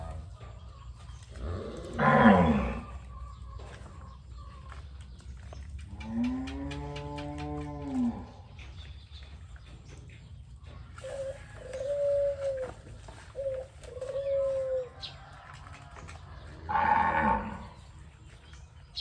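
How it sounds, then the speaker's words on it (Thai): Cattle moo several times at moderate distance, long drawn-out lowing calls spaced apart, with soft bird cooing and quiet outdoor background between them. "เสียงวัวก็ร้องและหิวหญ้าละ"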